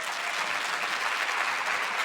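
A church congregation applauds the Pope in a steady, dense wash of clapping that fills the whole stretch at an even, moderate level, with no voices standing out.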